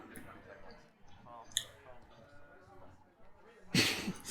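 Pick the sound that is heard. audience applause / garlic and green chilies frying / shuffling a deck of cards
shuffling a deck of cards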